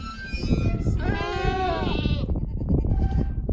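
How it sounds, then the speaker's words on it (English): A Dorper sheep on a Texas farm gives one drawn-out, wavering bleat lasting about a second, close and clear over a low rumble of farmyard background noise. "Jonathan decided to try some Dorber sheep"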